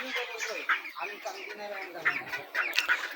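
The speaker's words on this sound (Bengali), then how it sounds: "এখানে অসুস্থ মুরগিগুলা এই যে।" Sick broiler chickens in a hot-weather poultry farm give off a busy, close chorus of clucks and short squawks, with a person speaking over the birds.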